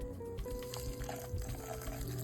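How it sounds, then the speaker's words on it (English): Homemade almond milk pouring into a nut milk bag, a faint continuous trickle and splash of liquid under a low background hum. "I'm gonna pour the nut milk directly into this bag."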